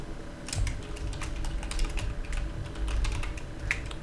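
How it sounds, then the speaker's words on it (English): Keys clatter on a computer keyboard in quick irregular bursts, close and fairly quiet, with a steady faint background hum and no voices. "I'm going to press F2 on our keyboard and name this hook target."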